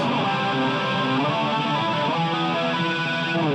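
An electric guitar runs through a BOSS GT-8 multi-effects unit with distortion and chorus, strummed and held chords ringing thick and shimmering, loud and steady without pause.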